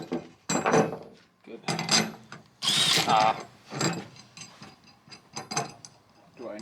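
A thread die turned by hand to clean up the threads on a light-duty truck differential U-bolt gives intermittent ratcheting, grinding bursts. A person speaks briefly between the bursts.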